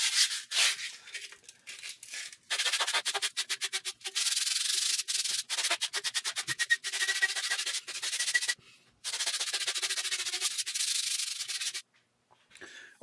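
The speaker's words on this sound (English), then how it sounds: "now we got this handle smoothed out a little bit with that sandpaper" A cork trekking pole handle is sanded with 150 grit sandpaper, giving rapid, steady back-and-forth rasping strokes up close, broken by short pauses, with no talking.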